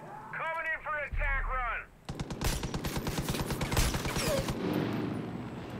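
Rapid automatic gunfire from a Far Cry 5 firefight, a dense string of loud, close bursts that starts abruptly after a voice talks briefly and continues steadily to the end.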